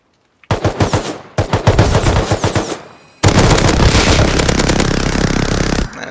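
Minigun in the video game Rust firing in long rapid bursts, loud and close: a rattling stream, a short pause, another burst, then a longer continuous roar of fire before it stops.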